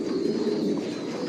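Racing pigeons murmur a soft, continuous low cooing in their loft, close and fairly quiet, with no voices over it.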